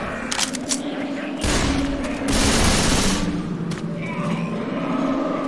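Gunfire in Left 4 Dead 2, loud rapid bursts and sustained automatic shooting with heavy thumps, close and continuous, with occasional shouted voices mixed in.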